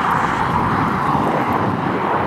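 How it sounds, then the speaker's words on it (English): A regular airplane passes overhead above Los Angeles traffic, a steady, loud broadband engine roar that holds even through the whole stretch with no break or voices. "No, that's just a regular airplane."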